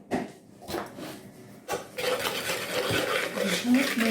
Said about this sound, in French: incorporez une partie de ces blancs en neige dans le premier appareil et battez avec votre fouet pour le détendre